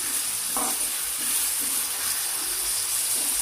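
Colocasia (chamagadda) masala curry fries in a pan with a steady, even sizzle, and soft stirring scrapes surface now and then, close and alone.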